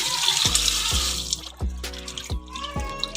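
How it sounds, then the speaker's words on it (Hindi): Beef tripe is rubbed and washed by hand in a bowl of water, giving repeated wet splashing and sloshing bursts about every half second against a steady watery hiss, close and fairly loud. "इसको हमें खूब अच्छे से इस तरीके से मल के से हम कम से कम 3 पानी से इसको हम बटों को धोएंगे"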